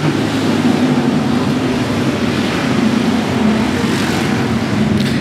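Race cars at 105 Speedway roar together as the green flag drops, a loud, dense, continuous engine drone with no clear breaks.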